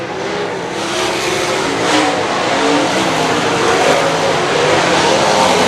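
Sprint cars roar past at a 2017 dirt-track race during the final laps, a loud, steady engine drone with a slight swell near the middle and no break in the noise.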